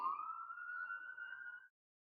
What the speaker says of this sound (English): Here comes more sirens, so I better just wait till they pass anyways.